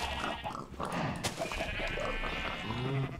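Sheep bleat in a Minecraft modpack, a wavering, fairly faint call over a busy backdrop of other game sounds.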